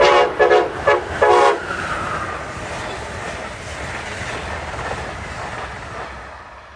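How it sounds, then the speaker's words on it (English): Amtrak's Crescent long-distance passenger train, Train 20 from New Orleans to New York, sounds several short horn blasts in a rapid pattern, then roars past Princeton Junction with a sustained rumble of wheels and cars that slowly fades. "here comes a train that traveled a long distance. Train 20, the Crescent, from New Orleans to New York"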